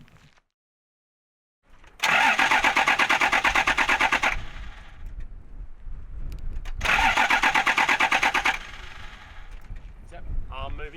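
A Toyota HJ47 Troopy engine cranks loudly in two separate bursts of rapid, rhythmic turning over, each lasting about two seconds, with a low rumble and faint voices between and after the attempts.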